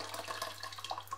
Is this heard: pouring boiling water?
yes